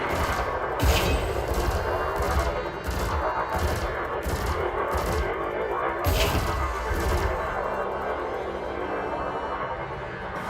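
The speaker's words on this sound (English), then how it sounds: "Loving the cannon sound." Rapid, heavy booming blasts of cannon fire in a game, repeating in bursts over a dense, continuous roar of battle noise.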